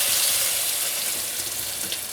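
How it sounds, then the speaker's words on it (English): Steady, dense sizzling hiss of salmon frying on a hot barbecue pan, continuous and fairly loud with no voices. "so it's going here to sizzle"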